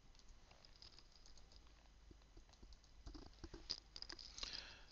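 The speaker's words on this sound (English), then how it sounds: "type in my password," Soft, quick keystrokes on a Mac keyboard as a password is entered, a faint irregular patter of clicks that grows slightly louder toward the end, heard alone in a quiet room.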